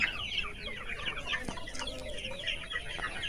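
Sonali chickens clucking continuously in a busy flock on a poultry farm, many birds overlapping at moderate volume, with a short sharp knock partway through.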